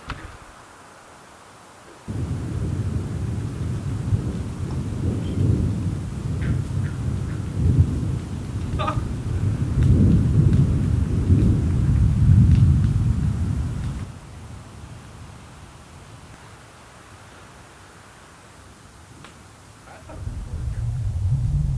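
Thunder rumbles low and long through a stormy night in the woods while camping in a tent, a deep sustained roll building and fading over about twelve seconds, then a quieter lull before another rumble begins.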